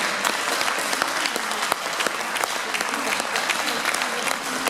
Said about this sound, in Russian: Встречаем аплодисментами.